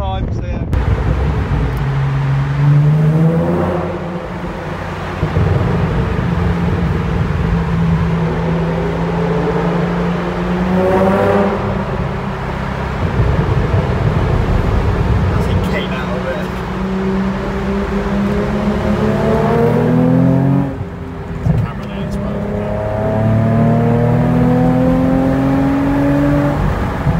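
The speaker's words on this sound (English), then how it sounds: "we're going to be able to go through a tunnel with George's Nissan 350z" A modified Nissan 350z drives through a tunnel, its engine droning loud and close with rising and falling revs as it accelerates and shifts, the sound echoing off the walls, while people talk over it.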